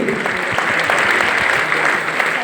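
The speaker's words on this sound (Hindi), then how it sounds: "एक जोरदार ताली होना चाहिए सर के लिए" Dense, steady applause from a large crowd honouring a speaker at a seminar at a resort in India, loud and continuous throughout with no talking.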